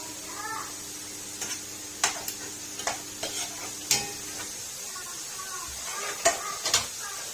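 Carrots dropped into hot ghee in a cooking pot give a low steady sizzle, broken by sharp clinks and scrapes of a spoon against the pot at irregular intervals, close up, with no talking.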